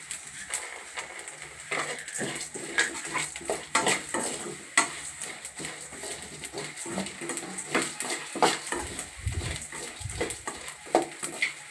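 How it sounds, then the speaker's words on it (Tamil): Black pepper tossed into a pan of cumin for hotel-style Udupi rasam is stirred with a metal spoon, bringing repeated close clinks and scrapes against the pan over a light sizzle, with no talking. "இப்போ மிளகு போட போகிறோம்"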